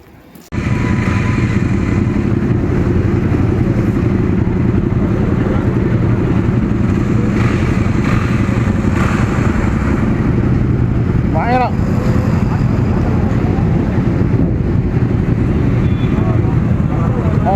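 A loud, steady engine rumble runs throughout, heavy in the low end, with background chatter mixed in and a brief high whine near the middle.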